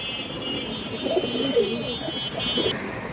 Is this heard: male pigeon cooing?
yes